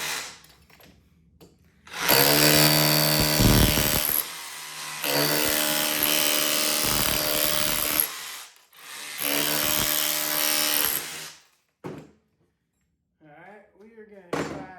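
A cheap cordless SDS hammer drill chipping, heard as three loud sustained bursts of mechanical hammering with short pauses between them, followed by quieter handling noise and a brief bit of speech near the end.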